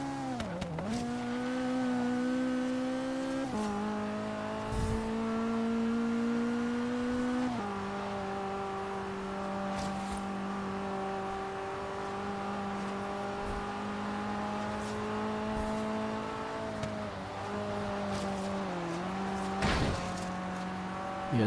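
A Datsun 510 races in the Forza Horizon game. Its engine drones steadily and holds a sustained tone, with shifts in pitch as it changes gear and quick throttle lifts. It is heard alone, with no talking.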